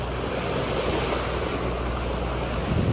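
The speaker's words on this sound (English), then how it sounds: "The seas have calmed down dramatically." Calm sea around a sailboat motoring off Portobelo, Panama: a steady wash of waves and water rushing past the hull, mixed with broadband wind noise and low rumble, continuous and close.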